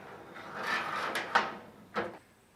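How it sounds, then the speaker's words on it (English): A wooden top piece of a small outdoor storage shed's door frame slides into place, giving scraping, rubbing slides and two short knocks close by with no talk. "Then align the top piece and slide it into place."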